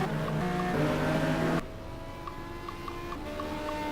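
Racing cars, Porsches among them, lap Spa in the GTR2 racing game, giving a steady engine drone with tonal whine that drops abruptly partway through and continues lower and thinner.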